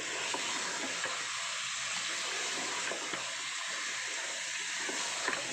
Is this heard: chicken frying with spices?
yes